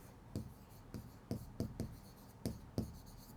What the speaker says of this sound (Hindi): तो मैं यहाँ प्रोटीन लिख दूं,